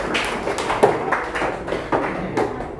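Students clap their hands in a classroom, a handful of scattered, uneven claps and taps over a few seconds at moderate distance, with no voices.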